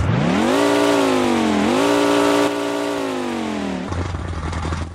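A car engine in Roblox Vehicle Legends revs up twice, rising and holding in a loud, buzzing whine before dropping off into a rough, crackling idle.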